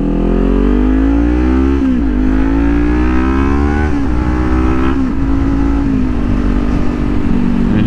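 Kawasaki Ninja 400 motorcycle engine revving while riding, loud and close, its pitch climbing through the gears with brief drops at each shift, a continuous throaty whine with wind noise.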